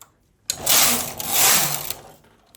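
A knitting machine carriage sweeps across its bed to knit rows, giving a loud, close mechanical whirring rush that swells and dips in two passes after a brief quiet start.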